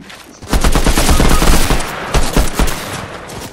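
Rapid automatic gunfire in Fortnite: a loud, close stream of shots for about a second, then a few shorter bursts of fire.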